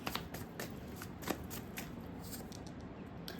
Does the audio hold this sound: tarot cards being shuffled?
yes